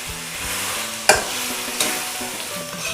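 Pork ribs stir-fried in a pan for honey-baked ribs, a constant hiss under two sharp scraping stirs about a second apart, close and loud, with no speech.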